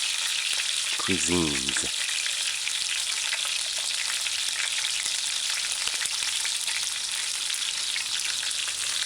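Ginger frying in hot oil for a chicken coconut stew, a steady bright sizzle throughout with a brief scraping stir early on and a few words spoken under it.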